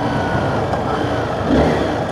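A Honda CBR 250 motorcycle engine runs at a steady, smooth mid-pitched hum, close by, with no talking.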